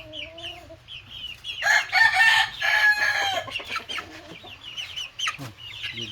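A chicken clucks and a rooster crows nearby, loud and insistent, with softer bird calls before and after the crow.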